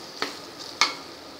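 Mashed eggplant tipped into a hot pan of sautéed greens and coriander, giving a soft sizzle and two brief scraping stirs, close and with no talk.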